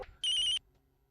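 A telephone rings once in a short, bright electronic trill of about a third of a second, clear and close, with quiet room tone before and after.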